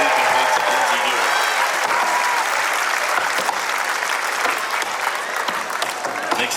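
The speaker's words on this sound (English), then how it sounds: "Give him a round of applause as he completes it" Outdoor crowd applause for a finisher at a 325mm world championship tree felling contest final, steady dense clapping throughout with a few brief cheers mixed in.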